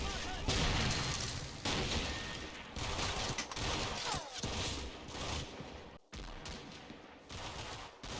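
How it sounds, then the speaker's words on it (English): Heavy gunfire in the wartime strategy game Combat Mission Final Blitzkrieg, dense bursts of rifle and machine-gun fire rattling continuously with booming impacts, one sharp cut near the end, with a voice speaking over the battle. "First section in the church are under heavy fire."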